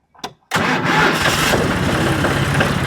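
A tractor engine, recently serviced with an oil change, cranks briefly and then fires up into a loud, steady idle rumble, close to the microphone with no talk over it.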